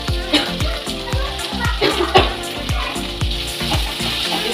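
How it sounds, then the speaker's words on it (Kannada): Capsicum and tomato fry in a pan for gobi manchurian, a steady close sizzle running beneath rhythmic background music with a regular beat. "ಇದನ್ನು ಅಷ್ಟೇ ಸ್ವಲ್ಪ ಟೊಮೆಟೊ ಸಾಫ್ಟ್ ಆಗೋವರೆಗೂ ಫ್ರೈ ಮಾಡ್ಕೋಬೇಕು."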